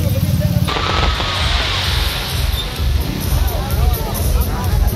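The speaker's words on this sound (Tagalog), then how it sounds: "Ayun, may fireworks na dito." Loud booming bursts and crackling pops from fireworks in Carmen, Davao del Norte, Philippines, rolling on continuously amid a noisy crowd murmur.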